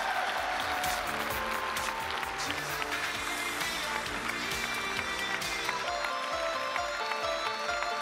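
Graduating students applauding at a diploma ceremony in the Palais des Congrès, a broad, sustained crowd clapping filling the hall, loud and continuous with some voices mixed in.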